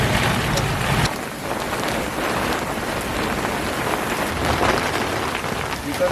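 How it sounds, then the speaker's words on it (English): Heavy rain pounds a boat moored in a Spanish marina during a thunderstorm with strong wind, a dense, loud and continuous hiss with gusty surges and no pauses. "there is quite some thunderstorm in the air"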